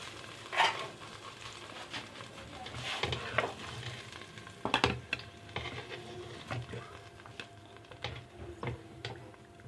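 Tadka tempering hits a pot of kadhi for karri pakora and sizzles, carrying a steady frying hiss with scattered crackles and a few louder spoon-and-pot clatters, close by and with no one talking.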